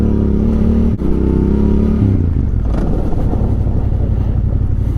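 A motorcycle with ABS switched off brakes hard on the rear wheel. A loud engine drone falls in pitch as the bike slows, with heavy wind rush over the microphone throughout and a brief dip around the first second.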